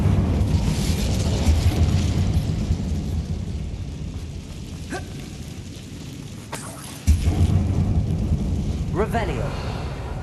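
Fiery spell blasts from the Hogwarts Legacy wizard game, a few sharp bursts and booms over a dense, continuous rumble of ambient game noise, with one louder impact near the end.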